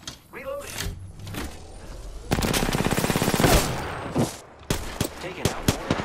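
Rapid automatic gunfire from Apex Legends bursts out loud and close in sustained volleys, then breaks into sharper separate shots, with in-game character voice callouts heard over parts of the fighting.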